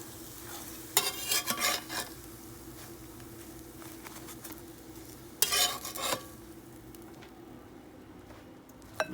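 A pancake frying in coconut oil sizzles softly and evenly, broken by two short bursts of spatula scraping and clatter against the pan, close and with nobody talking.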